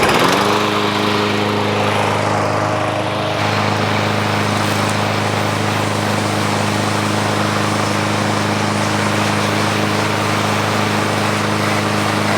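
A 2023 Craftsman M110 push lawn mower engine starts and then runs at a loud, steady, droning idle close by, with no talking over it.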